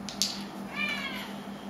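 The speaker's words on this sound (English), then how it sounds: "I think the cat wants a drink." A house cat meows in a kitchen during drink preparation, one drawn-out, clear meow of moderate loudness with a short sharper sound just before it, alone with no talk.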